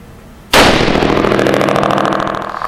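A .308 rifle fires once through a Control Systems 3-gun muzzle brake, a smaller version of the hex brake, at a SHOT Show muzzle brake shootout: a single loud, sharp blast followed by a long, fading echoing rumble.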